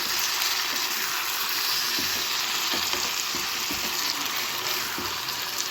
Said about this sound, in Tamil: இப்போ அதை நம்ம இப்படி இதோட சேர்த்துட்டு வதக்கி விட்டுக்கலாம் நல்லா கலந்து விட்டுக்கலாம்